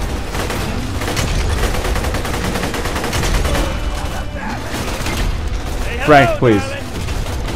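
Gunfire in the video game Borderlands 2, a dense continuous barrage of shots and booms under a loud game mix, with someone talking briefly over it.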